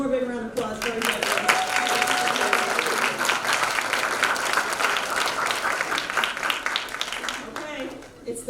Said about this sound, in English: How about one more big round of applause for our judges?